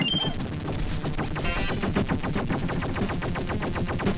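Rapid bursts of bullet fire ring out in an arcade shooting game, dense and continuous like machine-gun fire, loud and unbroken across the stretch with no voices.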